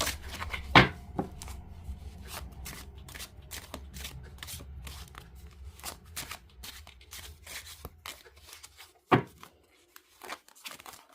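Close, steady shuffling of a linen-finish tarot deck, soft rustling and light slapping with a couple of sharper knocks, continuing for several seconds with no talking.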